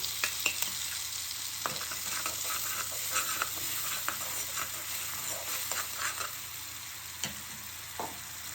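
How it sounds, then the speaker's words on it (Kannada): Chilli and coriander paste stirred into chana chaat in a pan, a steady close sizzle and scraping stir running throughout, with a few soft clicks of the spoon and no talk. "ಈಗ ನಾವು ಮಿಕ್ಸ್ ಮಾಡ್ಕೊಂಡಿರುವ ಪೇಸ್ಟನ್ನು ಹಾಕುವ."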